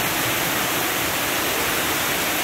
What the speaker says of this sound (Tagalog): Tapos natatalsikan ka pa ng tubig